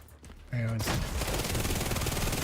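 Gunfire in The Division erupts after a short quiet lead-in, a dense, loud stream of rapid shots continuing to the end, with a brief tonal game cue just before it begins.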